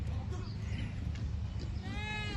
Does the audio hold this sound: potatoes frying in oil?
no